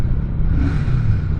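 A Royal Enfield Shotgun 650 motorcycle's engine runs at close range with a loud, steady low rumble and throb that holds without a break.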